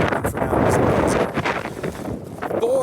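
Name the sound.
wind blowing outdoors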